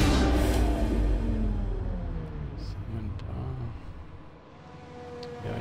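A Formula 1 car in the racing game F1 2020 pulls away at Mexico's Autódromo Hermanos Rodríguez during dry qualifying, its engine a loud, steady rumbling drone that holds up throughout under brief faint talk.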